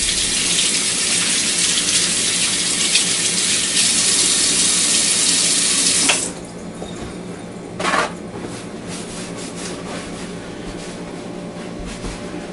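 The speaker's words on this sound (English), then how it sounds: "I'll give my hands a wash once again." A kitchen tap runs hard while hands are washed beneath it, a loud steady gush that cuts off abruptly partway through, followed by a brief splash and then quiet room tone.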